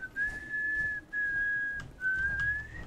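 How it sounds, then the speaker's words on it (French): A person whistles a steady, high melody close into a microphone, in three sustained phrases broken by short pauses, loud and clear over faint background noise. "siffle pas dans ton micro"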